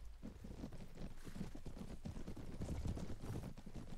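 Horse hooves in the video game Mount & Blade Warband, 1257 AD setting: a steady, busy clip-clop of several mounts moving together at a fairly even loudness for the whole stretch.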